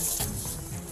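A police dog in an active arrest makes rough growling, snarling noises at close range, mixed with scuffling and a loud, noisy struggle.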